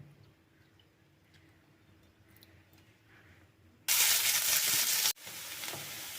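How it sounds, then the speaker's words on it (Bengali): Potatoes frying in oil: the first few seconds are quiet, then a loud burst of sizzling erupts, drops off for an instant, and continues as a steady hiss. "তো আলুগুলো দেখো লাল লাল করে ভাজা হয়ে গেছে"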